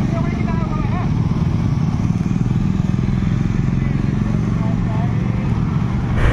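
A motorcycle engine idles and rumbles loudly close by before a drag race, holding a steady throb with a brief rise at the end, as chatter carries on over it.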